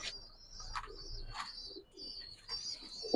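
Pigeons at a pigeon farm coo and chirp close by, with scattered soft taps as a bird pecks at a hand, and a brief flutter near the end.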